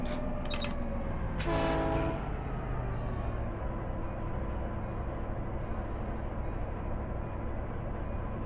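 A locomotive horn in the Run 8 train simulator game sounds in two short blasts and then one longer blast over a steady rumble of a moving train, with faint clicking of the rails continuing underneath.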